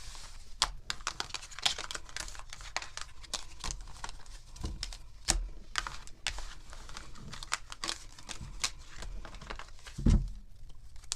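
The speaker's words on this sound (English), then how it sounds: "We need 3 more shuffles here." Tarot cards being shuffled by hand, a close, quiet flurry of papery riffles and soft taps in uneven bursts, with one louder thump near the end and no talk.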